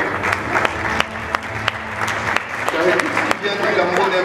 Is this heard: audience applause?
yes